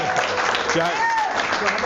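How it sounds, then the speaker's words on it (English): Audience applause at a hackathon conference event, a short burst of dense clapping that runs throughout with voices and a rising cheer or whistle mixed in. "Let's get a round of applause."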